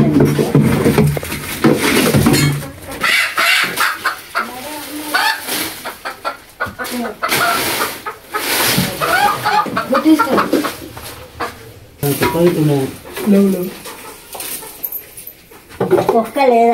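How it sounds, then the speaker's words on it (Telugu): A hen clucks in bursts around a home yard, close and fairly loud, mixed with other bird calls while people talk over it. "కోడి"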